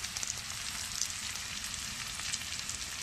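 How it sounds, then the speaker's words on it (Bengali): Onions frying in hot oil for mutton chosa, a steady, close sizzle with fine crackling and popping that holds evenly throughout, with no voices. "তারপরে পেঁয়াজটা ভেজে নিই"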